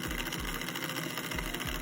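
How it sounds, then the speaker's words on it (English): A Scalextric Lamborghini slot car motor runs at low revs with its rear wheel lifted, giving a steady, close electric whir with a faint rhythmic pulsing and no talk. "I'll let it just run at very low revs for the moment, and I'll slowly increase."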